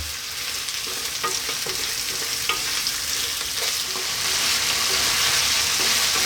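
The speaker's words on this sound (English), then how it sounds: "we're going to cook this for about 5 or 6 minutes, pretty much stirring it all the time" Lamb sizzles loudly in a hot pot as it is stirred, giving a steady frying hiss with soft, repeated scrapes of the spoon and no talking.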